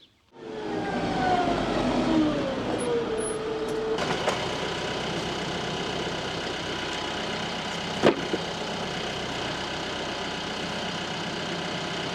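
A big farm tractor engine runs at a steady idle close by, starting up and then holding a constant drone with a faint rising whine early on and a brief clunk near the middle.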